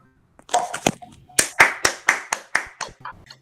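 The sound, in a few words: audience clapping hands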